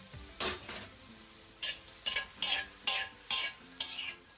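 Onions sweat in a hot pan, hissing in bursts as they are stirred, with about eight short, regular scraping strokes over a quieter sizzle.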